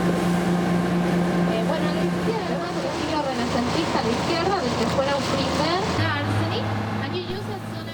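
Constant drone of a motorboat engine with water noise on a river delta near Buenos Aires, Argentina, a steady hum that shifts pitch partway through, with talk faintly underneath.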